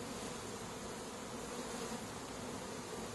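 Honeybees swarm around a hive frame during a July hive inspection, their dense, even buzzing continuing quietly without a break, no talking.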